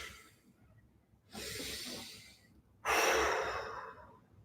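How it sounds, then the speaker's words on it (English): Deep breath heard close up from a show host: a quiet pause, then a long airy inhale followed by a louder, longer exhale, with no talking. "So I'm going to take a deep breath."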